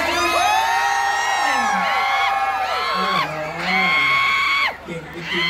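Large concert crowd cheering, whooping and screaming at an outdoor Thai music show in the rain, loud and sustained with high shrieks rising and falling, continuous throughout with no clear talk.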